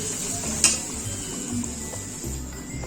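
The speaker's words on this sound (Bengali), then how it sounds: "এবার এটাকে ভালো করে কষাবো।" Spices and tomato being sautéed in a pan for a tarka, with a steady sizzle under repeated stirring strokes and a sharp utensil clink near the start, close and without talk.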